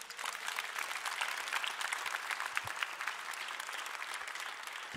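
A church congregation claps together in steady, dense applause that sounds moderately close and holds evenly throughout, with no voices over it.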